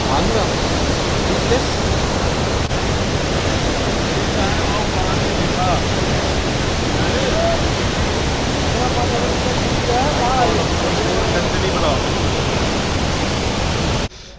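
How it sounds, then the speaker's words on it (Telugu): Devi's Falls waterfall in Pokhara, Nepal gives a powerful, steady roar of rushing water, close and loud, holding constant before cutting off abruptly at the end; faint voices may sit beneath it. "ఇంకా చూసాం కదండి ఈ డెవిస్ వాటర్ ఫాలు, గుహలు అదిరిపోయినాయి"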